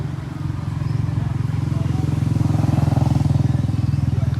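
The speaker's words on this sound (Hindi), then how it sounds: "इसका एग्जॉस्ट साउंड सुनाता हूँ।" A Bajaj Pulsar F250 motorcycle's exhaust throbs close by, a steady, loud, rapid pulsing idle that grows slightly louder after the first half-second and holds evenly throughout.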